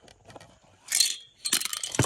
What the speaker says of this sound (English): and the dice roll, and you get a randomized dice roll